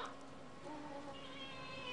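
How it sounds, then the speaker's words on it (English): Cat sound effects from the graveyard scene of Disney's Haunted Mansion attraction, with a couple of drawn-out meows rising over a faint background, heard alone. "There are some cats from the graveyard."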